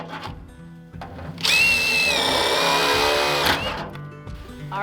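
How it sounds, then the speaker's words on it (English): A power drill bores a drainage hole through clay-packed earth in a root cellar, with a loud whine lasting about two seconds, framed by scraping and handling noises before and after. "I'm going to be drilling some drainage holes in here so that any moisture that accumulates can drain down"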